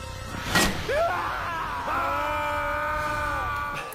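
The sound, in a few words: man screaming in film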